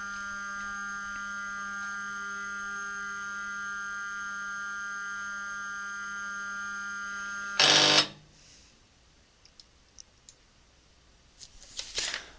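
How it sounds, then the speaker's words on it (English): A linear actuator homing at power-up produces a steady electrical whine with a clear tonal hum for about eight seconds, ending in a short loud clunk, followed by quiet handling clicks and rustles. "So I will home the actuator"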